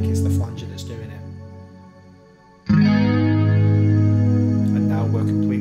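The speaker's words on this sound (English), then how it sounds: "Because I think it's the flanger that's doing it." An electric guitar rings out with a swirling, sweeping flanger effect and gritty overdrive, a sustained chord fading then struck again loudly.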